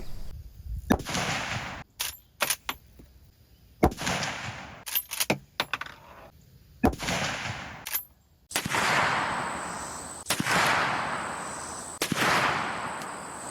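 A 30-30 rifle fires Winchester 170 grain Power Point rounds into ballistics gel, a series of sharp, loud shots spaced a second or two apart, each followed by a brief ringing decay outdoors.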